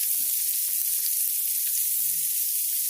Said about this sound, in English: Already getting some blackening going on the lower side. Just going to go in here and flip these over now.